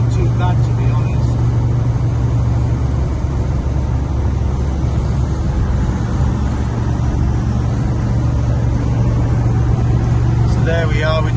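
Steady engine drone and road roar from a 1965 Chevrolet El Camino cruising at around 3,000 RPM at highway speed, a continuous low hum with faint interior rattles, and someone talking over it.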